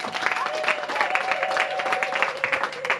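A church congregation claps together during a sermon, a dense, continuous burst of applause with crowd noise and a voice faintly underneath.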